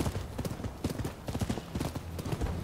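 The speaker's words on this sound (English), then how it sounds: "I'm not going to be taking my horse any further." Horse hooves clip-clopping at a steady trot during riding in the Rise of Ronin video game, a quick, dense rhythm of close, moderately loud hoof beats over faint background ambience.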